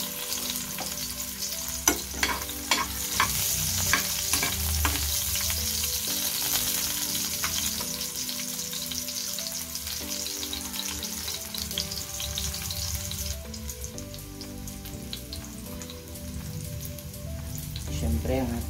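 Onion frying in a pan, a steady close sizzle with sharp stirring clicks and scrapes early on, then a continuous hiss, no talk.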